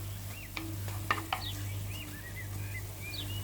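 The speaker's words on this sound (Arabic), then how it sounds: "خديت منه باش غادي نشحر هاد البصله ديالنا، هي كتشحر" Onion frying in oil, a soft continuous sizzle with a low hum and a few sharp utensil taps. Faint bird chirps come from the background, and nobody speaks.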